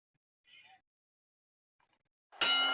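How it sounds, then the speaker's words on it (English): Boxing bell striking to open round 1 of a simulated heavyweight championship bout, a sharp ringing clang that sustains at the end after a few faint sounds in near silence. "there's the bell for round 1"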